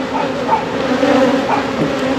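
Honeybees buzz steadily around a hive being moved after a swarm was boxed, a dense continuous drone close by with no talking.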